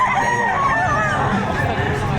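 A rooster crows loudly and close by at a livestock auction market in Padre Garcia, Batangas, its drawn-out call rising and wavering, with other fowl and faint crowd babble around it.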